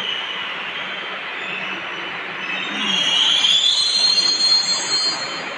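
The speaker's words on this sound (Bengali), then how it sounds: "এই যে দেখতে পাচ্ছ মেট্রো চলে এসছে" A Kolkata metro train pulls into the station, a steady rumbling roar that swells midway with rising wheel squeal and hiss as it nears, loud and close, with no talking.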